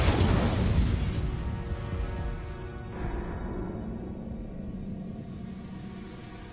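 An Incendio fire spell cast in the Hogwarts Legacy video game bursts out as a loud, bright explosive whoosh, then fades into a long rumbling roar that slowly dies away.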